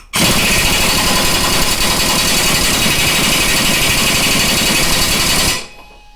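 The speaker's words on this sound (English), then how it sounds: "Have to break out the air impact." A pneumatic air impact wrench works on a stuck bolt on a riding mower deck, giving a loud, continuous rattling hammer for over five seconds before cutting off abruptly.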